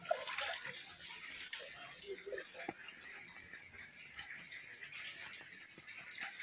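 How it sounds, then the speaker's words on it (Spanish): Floodwater from the overflowing Lagartero river in La Ventosa during heavy rains, a steady broad rushing wash of water running throughout, with faint scattered knocks and splashes in the background. "Acaba de desbordar el río Lagartero."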